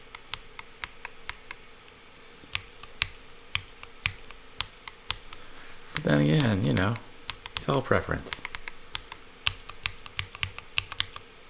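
Typing on a Monsgeek M1 V5 keyboard with magnetic switches, soft irregular keystroke clicks spread throughout, with a person talking briefly in the middle.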